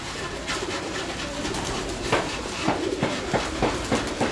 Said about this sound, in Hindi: ये है जी बेस बड़ा कबूतर